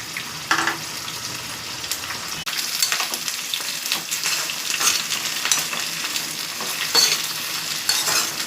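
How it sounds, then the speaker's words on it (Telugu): Curry leaves fry in hot oil in a pan for a coconut chutney, giving a steady bright sizzle with crackling pops and occasional stirring scrapes throughout, with no talking. "ఇలా ఫ్రై చేసి సిమ్లో పెట్టుకొని మగ్గనిచ్చుకోవాలి"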